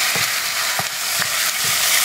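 Garlic and ginger paste fries in a hot pan with a steady, dense sizzle, while a utensil stirs it in soft scraping strokes roughly every half second.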